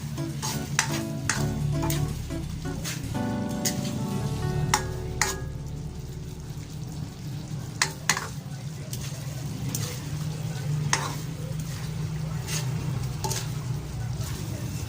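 Chicken and broccoli sizzle and fry in a pan while being stirred, steady frying hiss with scraping strokes and occasional clinks of the utensil against the pan.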